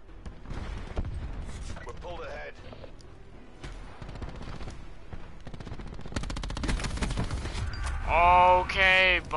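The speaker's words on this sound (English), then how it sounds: "Okay, buddy, you're using a fire shotgun." Gunfire from a shotgun in the video game Call of Duty: Black Ops 4, with shots repeating through a busy multiplayer Team Deathmatch round while voices talk over the action.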